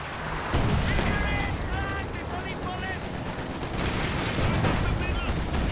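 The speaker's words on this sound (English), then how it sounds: "Stug E firing away against the Fiat squad." A StuG E assault gun fires in the Company of Heroes 2 strategy game amid dense battle noise: rattling small-arms fire, repeated cannon shots and explosions that run continuously under a caster talking.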